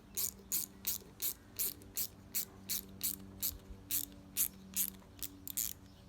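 Ratchet tightening bolts on a Yamaha Banshee during a leak down test, about fourteen quick clicking bursts at a steady pace, close and fairly quiet with no talk.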